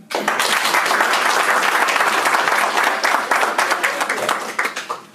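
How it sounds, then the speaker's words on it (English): Audience applause at a school board meeting, loud and sustained clapping from a crowd that holds steady for several seconds before trailing off into a few final claps. "recognize them with a round of applause"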